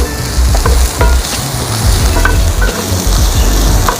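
Sicilian eggplant sizzles loudly as it fries in a pan, with repeated scraping and clattering stirs over a steady hiss, close up and without talk.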